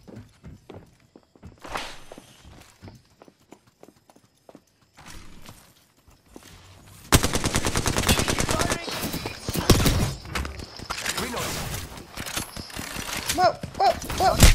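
Gunfire in the Apex Legends video game: sparse steps and light clicks give way to dense, rapid automatic bursts that continue loud and sustained, with a voice talking over parts of it.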